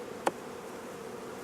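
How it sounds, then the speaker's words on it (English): Faint, continuous buzzing of bees at an opened hive in April, a low steady hum with one brief louder insect passing close by. "There's not an enormous amount of bees in here really"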